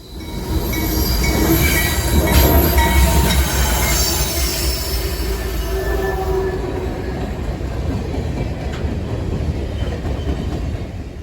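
A long freight train, a manifest led by GE AC4400CW and GEVO locomotives, rumbles past close by in Maryland, its wheels clattering steadily over the rails with occasional high squeals, loud and continuous throughout.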